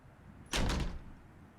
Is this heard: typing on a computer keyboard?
no